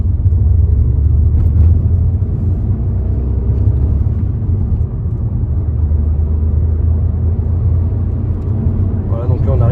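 A Citroën C3 on a road test, accelerating to nearly 80 km/h, heard from inside the cabin as a steady, loud low rumble of engine and road noise that holds without break throughout.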